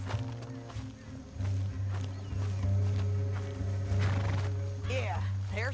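Horses whinny and their hooves clop near a canyon in a Western setting, beneath a heavy low music bed and spoken dialogue, with a sharp neigh rising near the end.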